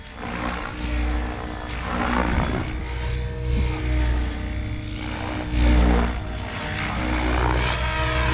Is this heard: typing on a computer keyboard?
no